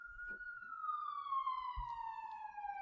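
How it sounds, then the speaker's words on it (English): A siren wails steadily and slowly falls in pitch across the whole stretch, heard from a moderate distance over faint low rumbling, with no talking. "As the siren goes."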